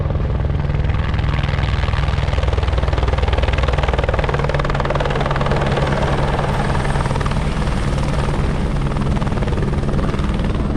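Helicopters drone steadily at Milford Sound airport, a loud continuous rotor chop and engine roar with no break, close by.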